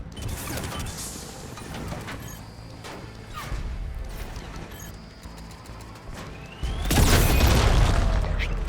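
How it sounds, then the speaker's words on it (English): Bombs exploding in the video game Mass Effect 3, a string of heavy booms and crashes mixed with mechanical clatter, ending in a louder blast that roars on to the end. "Você fica tacando bomba em tudo que é lugar"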